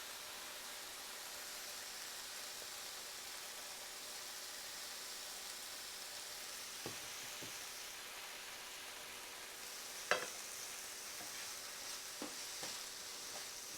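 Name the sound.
onions and chili flakes frying and being stirred in a pan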